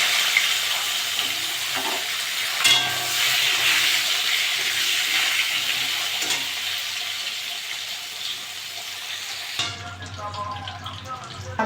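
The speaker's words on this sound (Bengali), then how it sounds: "ওই তেলে পটলগুলো ভেজে নেব।" Pointed gourd (potol) frying in the same oil used for potatoes, a loud, dense sizzle with occasional stirring scrapes, close up and continuous, changing to a sharper, crackling fry near the end.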